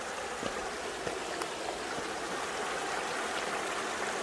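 A mountain valley stream flows steadily on a rainy afternoon near a rural hillside café in Hongcheon, a continuous broadband rush of water with small splashes, close and even throughout.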